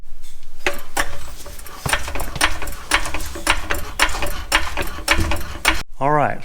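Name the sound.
rear axle gears turning as wheels are spun, 1969 Chevy Nova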